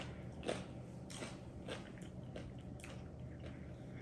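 Crunchy bread spread with garlic butter is bitten and chewed up close, with faint, quiet crisp crunches recurring every half second or so against a soft hiss.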